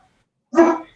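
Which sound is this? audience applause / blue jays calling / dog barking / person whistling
dog barking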